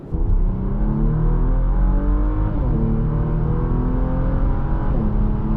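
A 2024 Porsche Macan with the sport exhaust, flaps closed, gives a steady, fairly loud engine drone that rises in pitch slightly, heard alone.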